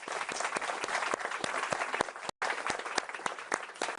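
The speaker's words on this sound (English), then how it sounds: "Let's give them a round of applause." Audience applause at a conference session of an international AI summit in Paris, a brisk, fairly close wash of clapping with distinct individual claps, continuing steadily for a few seconds with a momentary dropout.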